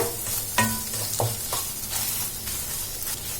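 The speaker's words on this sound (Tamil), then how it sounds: "இது லைட்டா குக் ஆகட்டும் இந்த முட்டை" Broken-up eggs fry in a kadai while being stirred, a steady close sizzle punctuated by several spatula scrapes and clinks against the pan.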